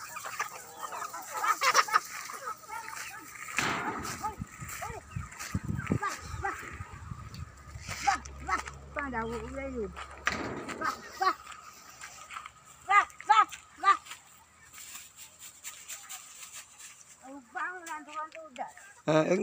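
Hens, including a large one that squabbles with the others, cluck in scattered bursts near a home while fed leftover rice after a food offering, with people talking over and between the calls.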